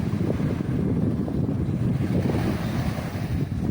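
Sea wind and surf on Jomtien beach in Pattaya: a steady, loud rush of waves and gusting wind buffeting the microphone, with no voices.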